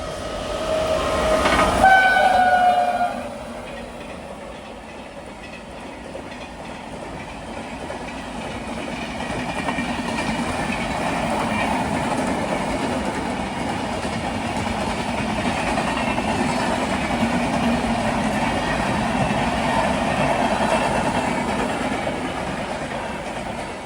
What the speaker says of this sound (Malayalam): ഇതുവഴി ഒരു ട്രെയിൻ കടന്നു പോവുകയാണ്.